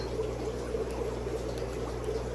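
Water pours steadily during a water change in a guppy fish room. It makes a continuous, even splashing rush, moderately quiet, with no talking over it.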